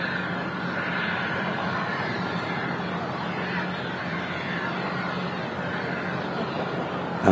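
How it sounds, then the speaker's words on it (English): An EasyJet airliner inbound from Reykjavik roars steadily on approach at Manchester Airport, a broad continuous engine rumble and whine holding level throughout with no pauses or talk. "Let's catch this EasyJet coming in."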